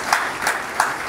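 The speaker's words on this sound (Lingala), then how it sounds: "Sous vos applaudissements," Audience applause at a formal gathering, a short burst of steady clapping from many hands, close and continuous with no talk.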